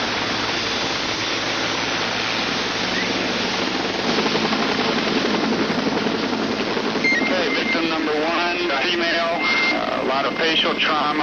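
A Life Flight medical helicopter on a scene run in Medina County, its rotor and engine roar a dense, steady wash of noise throughout, with voices mixed in beneath it.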